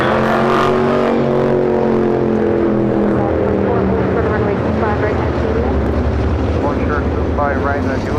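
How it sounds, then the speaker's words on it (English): A Boeing 777 freighter takes off at LAX with a loud, steady jet-engine roar and a rising whine, while a voice talks over it throughout. "5382 taking off to Miami, Florida on a 777 freighter."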